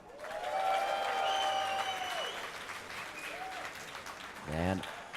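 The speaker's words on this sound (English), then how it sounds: "Let me hear a cheer for Moscow 5." Crowd at a DreamHack Summer 2012 League of Legends match cheering for Moscow 5, a loud sustained roar and applause with a shouted voice rising above it near the end.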